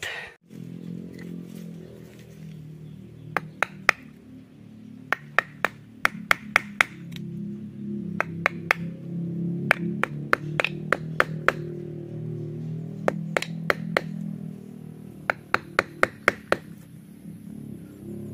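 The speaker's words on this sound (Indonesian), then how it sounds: "selanjutnya kita pahat" A mallet made from a tausi branch strikes a chisel into hard old tausi bonsai wood, producing sharp, evenly spaced taps in bursts over a steady low background hum, with no talk.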